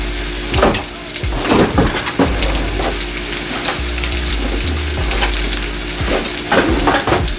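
Bagoong shrimp paste goes into a loudly sizzling pan of Filipino Bicol Express, followed by repeated stirring scrapes and clanks of the utensil against the pan, over a low steady hum.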